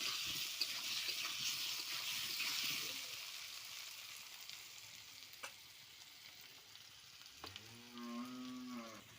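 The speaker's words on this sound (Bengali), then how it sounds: "হলুদ দিয়ে দেবো, ভালো করে ভেজে নেব আলুগুলো" Potatoes fry quietly in oil with turmeric, a faint steady sizzle with a few utensil taps, while a cow lows nearby toward the end.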